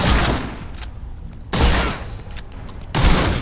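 Gunshots in The Sinking City video game, three loud booming shots spaced about 1.5 seconds apart, each ringing out and decaying into faint echo.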